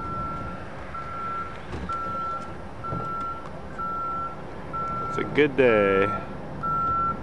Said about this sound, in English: So he's driving the flat truck, pulling this big airplane.